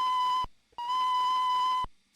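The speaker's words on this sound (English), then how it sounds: "Oh, the little whistle's hidden behind there." The steam locomotive Ilfracombe Goods gives two clear whistle blasts in a train video game. The first is short and the second longer, both steady and tonal with a single pitch and a brief silence between them.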